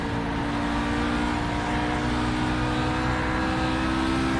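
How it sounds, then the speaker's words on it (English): Race car engine in iRacing's GPL 2024 series at the Motegi oval, held at high revs against the rev limiter in fifth gear, a loud, steady, buzzing drone with no talk over it. "I think I hit the rev limiter there in 5th."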